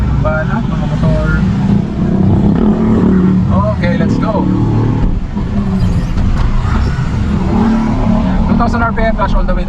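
A manual car pulls out and accelerates, its engine rising in a steady loud drone with road noise close by, while someone talks over it.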